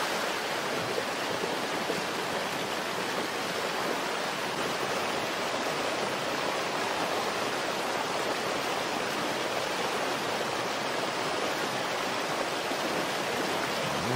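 The Roaring River flowing at night, a steady broadband rush of water that holds unchanged at moderate level for the whole stretch, with no voices.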